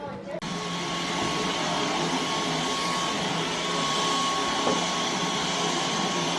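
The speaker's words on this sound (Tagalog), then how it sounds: "Vacuum na siya kasi may mga crystal pa kami nakikita." A vacuum cleaner switches on with a click and runs at a loud, steady whine, sucking up broken crystal, with occasional faint rattles as debris passes through.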